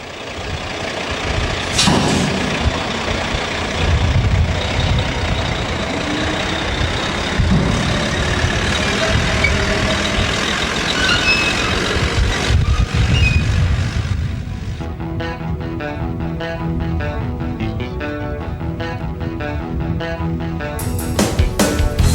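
A 430-horsepower six-wheeler truck with 1,550 foot-pounds of torque hauls fertiliser from ship to airstrip, its engine a steady, loud rumble for about fifteen seconds before giving way to a tonal, music-like pattern.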